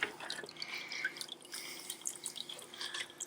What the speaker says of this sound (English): Dripping nicely.